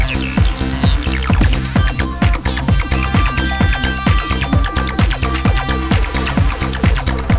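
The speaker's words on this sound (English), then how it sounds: "that is the sound of the Electro 2" Electro 2 synthesizer playing a bright, clean repeating pattern with punchy low pulses and sustained upper tones, steady and loud throughout with no voices.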